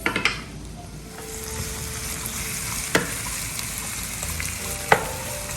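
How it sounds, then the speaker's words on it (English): Onions fry in a pan with a steady sizzle, stirred now and then, with a few sharp clinks of a utensil against the pan as they cook for a Puerto Rican steak and onions dish. "So while my onions are cooking"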